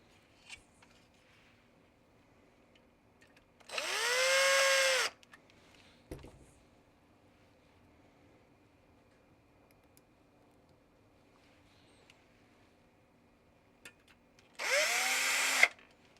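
Power drill driving screws into an Atari 400 computer: two separate loud whirring bursts, each about a second long, with long quiet gaps and faint handling clicks between them.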